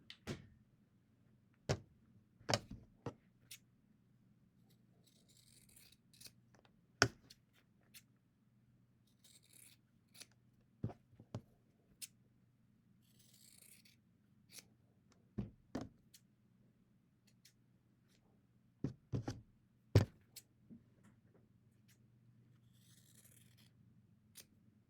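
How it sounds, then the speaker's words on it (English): Scissors snipping through sewn quilt fabric for a 12.5-inch heart quilt block, with scattered sharp, faint cuts spaced irregularly over a quiet hum. "cut between those two sewn lines"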